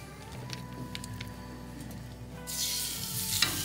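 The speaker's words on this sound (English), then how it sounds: "Listen for that sizzle." Hot fat sizzles steadily at a low level, then bursts into a louder, crackling hiss midway as a boneless skinless chicken breast hits the pan, continuing close and bright.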